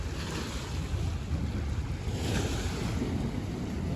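Sea waves wash steadily around a moving ferry off Lisbon, Portugal, mixed with gusty wind buffeting the microphone; no one speaks.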